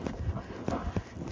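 A horse canters in a dressage arena, its hooves landing in soft repeated thuds with a rolling rhythm at close range. A low voice may sound faintly beneath the footfalls.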